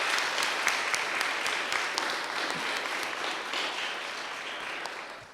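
A room full of people gives a sustained round of applause at a Guam Legislature certificate presentation, steady and moderately distant, with no talking over it.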